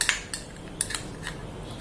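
Metal spoon clinking and scraping against a bowl while homemade chocolate is stirred together with Milkmaid condensed milk, a few sharp taps spaced over a soft low background, no voices.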